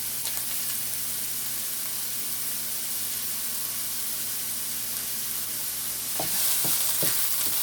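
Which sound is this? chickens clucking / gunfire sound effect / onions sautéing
onions sautéing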